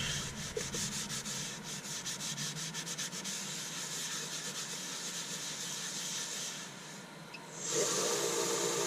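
Sandpaper rubs against the spinning underside of a turned wooden fruit bowl on a lathe, a continuous close hissing scrape that changes to a brighter whir near the end.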